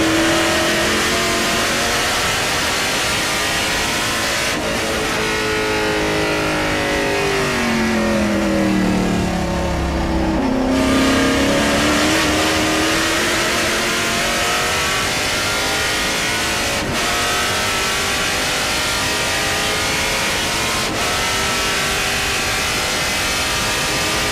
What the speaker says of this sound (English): Sam Mayer's car is sounding really good